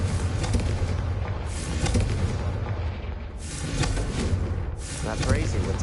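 A Confringo fire spell explodes in Hogwarts Legacy with loud booming blasts and rumbling over game background, the bursts swelling and fading across the clip.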